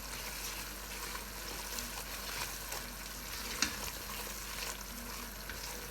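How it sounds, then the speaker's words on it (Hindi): Gram flour being fried with onions in a pan for cabbage koftas, a soft continuous sizzle with gentle stirring and one faint clink. "अब हम बेसन को 3 से 4 मिनट तक भूनेंगे"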